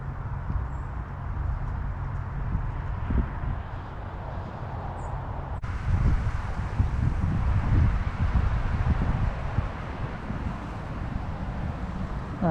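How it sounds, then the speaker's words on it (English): Steady wind gusts outdoors beside a river in winter, a broad rushing wash that swells stronger partway through, close to the microphone and with no one talking. "Ooh, the wind's picking up even more."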